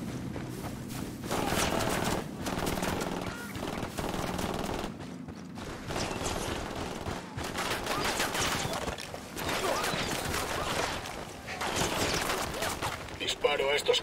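Bursts of rapid gunfire in a Ghost Recon Wildlands firefight, loud and nearly continuous with dense overlapping shots and thuds, mixed with game sound and voices.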